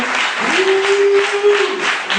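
A church congregation applauding and acclaiming the Lord, with a steady wash of clapping and cheering voices and a sustained vocal cry over it, dense and lively throughout.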